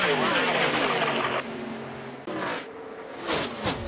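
NASCAR Truck Series race trucks roar past at Michigan International Speedway, engine drone rising and falling as they pass, with a commentator talking over the racing.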